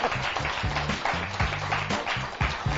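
Crowd clapping at the 33rd CX Triveneto cyclocross race in Mussolente, a continuous, moderately distant patter of applause with a voice speaking over it throughout.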